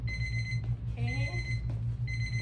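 A timer alarm on a cervical traction unit beeps in rapid electronic bursts, loud and close, broken by a short pause and a brief tonal squeal, over a steady low machine hum.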